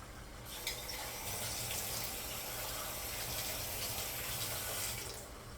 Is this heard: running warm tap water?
yes